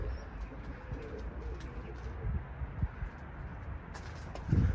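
Pigeons outdoors on a windy early morning, with soft cooing and light bird calls over steady wind and ambient rumble, plus a brief flutter-like burst near the end.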